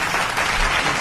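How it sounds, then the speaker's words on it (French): Brief burst of studio audience applause on a French television show, a dense continuous clatter of many hands at close range. "ça s'applaudit, messieurs, dames"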